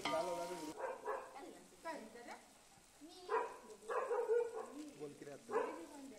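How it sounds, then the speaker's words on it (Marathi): Ginger garlic paste frying and being stirred in a hot pan, with faint sizzling and scraping that sit mostly under steady talk and come through in short bursts between phrases. "अद्रक लसूणची पेस्ट टाका"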